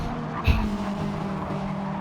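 Race cars in a GTO league race at Deep Forest Raceway in a video game roar past with a steady engine drone, a brief sharp burst like a tire squeal or bump early on, loud and close.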